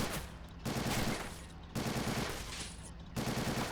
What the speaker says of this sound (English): Look at those bullets just whizzing around there and bouncing off.